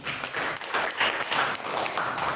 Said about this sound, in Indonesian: Beri tepuk tangan sahabat-sahabat